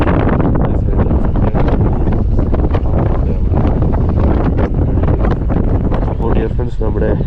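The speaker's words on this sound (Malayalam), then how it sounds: "പക്ഷേ ഭയങ്കര കാറ്റ്, ഒരു രക്ഷയില്ല. കാറ്റ് കുറയുന്നില്ല." Strong wind on the Parunthumpara hilltop in Idukki roars and buffets the microphone, a loud, continuous rumbling gust noise throughout with no clear voices.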